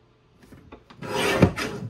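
A paper trimmer blade slices through a paper strip: a faint scrape builds into a steady, loud rasping cut lasting about a second, close up, with no voices.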